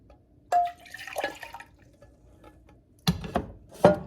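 Brine pours into a jar of jalapeño peppers in short splashing bursts, with a few quick liquid gushes separated by near silence and small drips.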